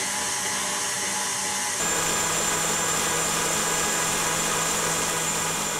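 A hand mixer whipping cream for homemade ice cream jumps to a higher speed partway through, its steady motor whine growing louder and denser after the first couple of seconds, with no talking.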